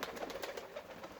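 Pigeons coo in soft, repeated rounded calls, several overlapping notes close by and fairly quiet, with no other sounds around them.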